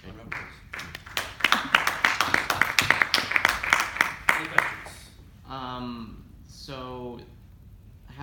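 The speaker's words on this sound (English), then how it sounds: "let's give Graham a round of applause." A small seminar audience claps for the speaker after a mathematics talk on Kac-Moody algebras, several hands in a brisk, close patter lasting about four seconds, followed by someone talking.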